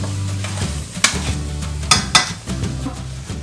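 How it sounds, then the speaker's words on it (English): Ground meat and basil cook in a pan for spaghetti sauce, making a close, continuous sizzle with a low hum and a few sharp spoon scrapes and knocks against the pan. "And let it cook with the meat."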